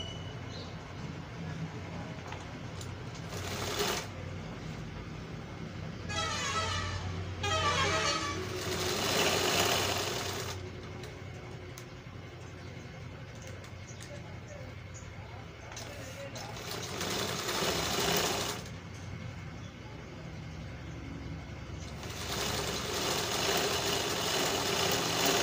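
A sewing machine stitches Paithani embroidery in bursts of rapid mechanical chatter, starting and stopping several times, while a low hum runs underneath and a person talks now and then.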